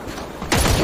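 A burst of rapid, loud gunfire in the video game PUBG erupts suddenly after a brief stretch of low background noise, sounding like continuous automatic shooting.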